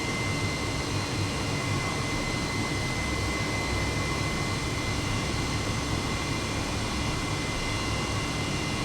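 An H135 helicopter in Microsoft Flight Simulator drones steadily during liftoff with a high whine and constant rotor roar, unchanging and fairly loud, with no speech.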